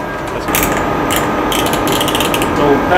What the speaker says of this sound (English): as you can hear now, the ambient noise is not too loud. That's because the system is running in normal mode.